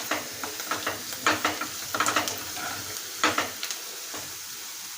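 A spoon scrapes and clinks through a frying mixture seasoned with turmeric and salt in a pan, several distinct knocks in uneven rhythm over a soft, steady sizzle.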